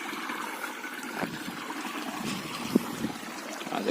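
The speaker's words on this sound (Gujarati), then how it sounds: "આ જો આ કુંડીમાં નીકળે છે પાણી બહાર" Water runs out of a pipe into a small tank, a steady trickling and splashing flow with a few louder drips and gurgles, close by and alone.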